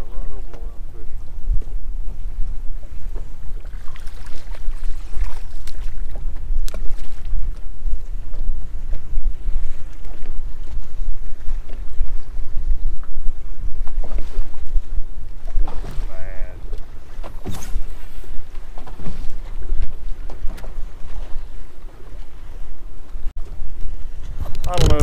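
Another angler's fishing boat driving past on a lake, a low outboard engine rumble mixed with wind noise on the microphone, steady and moderately loud throughout.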